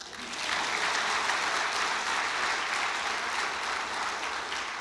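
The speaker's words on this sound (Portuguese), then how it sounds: "Salva de palmas." Sustained applause from a church congregation during a worship service, a dense steady wash of clapping that swells in quickly and holds loud and even throughout.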